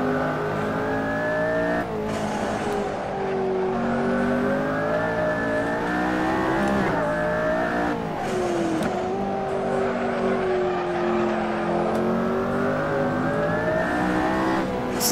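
A McLaren Senna in the Assetto Corsa racing game accelerates hard at Spa. The engine drone climbs steadily and drops back briefly at each gear change, continuous and loud throughout with no talking.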